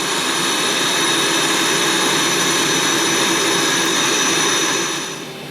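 Boeing 737-700 jet engines run in X-Plane 11 with a loud, steady roar and a high whine. The sound holds constant, then eases off in the last moment.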